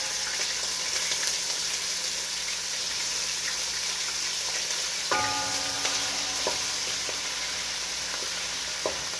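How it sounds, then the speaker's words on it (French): Shrimp frying in hot oil, a dense steady sizzle with stirring and a few sharp utensil clinks partway through, close and without voices. "Je vais passer chevrette là dans l'huile là."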